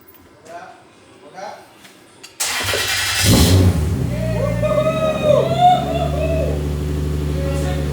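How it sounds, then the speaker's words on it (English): A Mazda RX-7 FD engine cranks and catches after a moment of quiet, then settles into a rough idle with a few rising revs, loud and close; a person speaks briefly before the start. "Then this car started."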